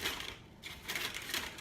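Scissors snip through excess holiday gift wrapping paper in a few quick, close crisp cuts, with no one speaking.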